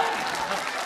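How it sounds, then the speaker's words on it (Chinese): A brief, close burst of neighbours clapping together, a dense patter of hands lasting under a second with no pauses. "街坊邻居，你们还鼓掌呢？"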